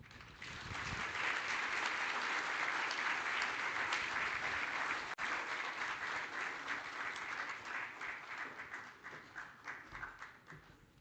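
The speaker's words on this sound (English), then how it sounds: "Let's give him another round of applause." A conference audience at an oil and gas event applauds after a speech, a broad roomy wave of clapping that holds steady, then thins into scattered individual claps near the end.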